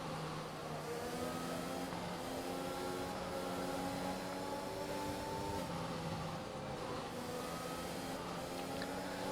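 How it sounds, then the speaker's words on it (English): An F1 race car engine in a racing video game drones at a steady mid pitch while warming up tyres on hard compounds, with shifting harmonic tones and no pauses, heard quietly and alone. "Warming up the tyres."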